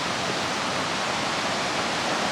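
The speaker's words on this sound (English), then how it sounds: "there's a waterfall. You can hear it already in the background." Steady, dense roar of the 40-meter Ristafallet waterfall in Sweden, filling the whole short stretch without pause or voices.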